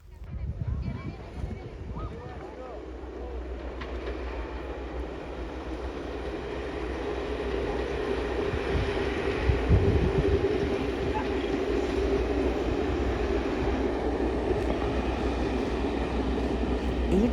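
A train crosses the Glenfinnan Viaduct in the Scottish Highlands, a steady broad rumble that swells and holds, with onlookers' voices murmuring in the background.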